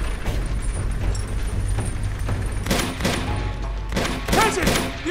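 Rapid gunfire and explosive bursts from the Uncharted 2 video game, a dense, loud volley with heavier blasts near the end.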